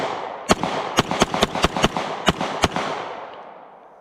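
Walther P99 pistol fired through an Osprey suppressor: eight sharp, fairly loud reports in an uneven string over about two seconds, each with a short ringing decay, then a fading tail.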